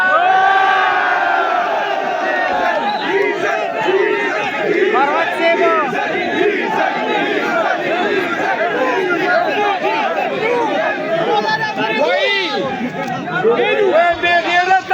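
A large crowd at a PTI political convention chants slogans, reportedly "diesel, diesel," in loud, continuous rhythmic unison, with many overlapping voices and occasional shouts rising above the mass.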